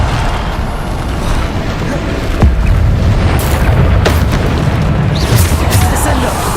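Bombarda spell explosions in the Hogwarts Legacy game, loud rumbling booms with sharp bursts over dense, continuous battle noise, with a voice speaking over the fighting.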